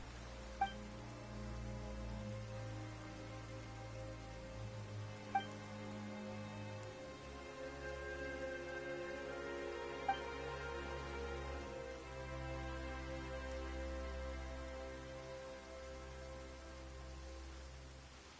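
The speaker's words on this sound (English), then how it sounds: "Why is it raining all of a sudden?" Steady rain falls in the video game Genshin Impact, a soft continuous patter under quiet sustained game music, with a few faint isolated clicks and no talking.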